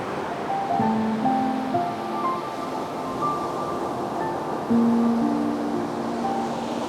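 Steady ocean surf rolls and washes in the distance, a continuous broad rush with faint tonal hums layered over it.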